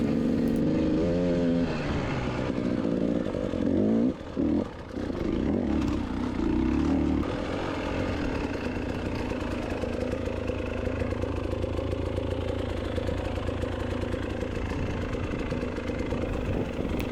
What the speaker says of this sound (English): See how the motor didn't stall and I was able to pick it back up?